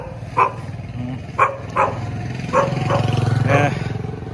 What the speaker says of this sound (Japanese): どこの犬も私に吠えますね。